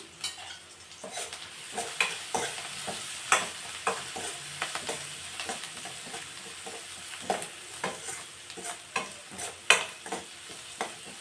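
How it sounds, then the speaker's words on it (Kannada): Gentle sizzling of a spice tempering for curd rice frying in hot oil, punctuated by repeated scraping stirs and light clinks of a spoon against the pan. "ಇದು ಇವಾಗ ಎಣ್ಣೆಯಲ್ಲಿ ನೀಟಾಗಿ ಫ್ರೈ ಆಗಬೇಕು"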